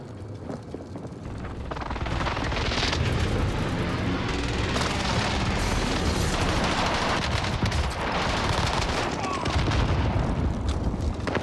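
Call of Duty gunfire rattles in dense bursts of automatic fire mixed with booming blasts, loud and continuous over a noisy battlefield with voices underneath.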